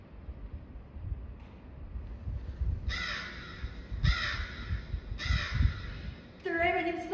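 Repeated raven caws ring out in separate bursts over a low rumbling background, a sound effect for a Macbeth monologue staged in an English drama club performance.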